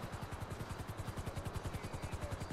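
Helicopter in the video game GTA 5, a steady rapid rotor chop with a throbbing low beat, loud and close, with no talk over it.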